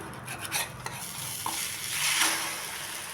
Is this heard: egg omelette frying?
yes